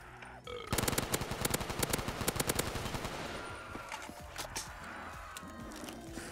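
Rapid gunfire in a Call of Duty custom zombies game, a dense close burst of repeated sharp shots for a few seconds, then scattered single shots and clatter trailing off.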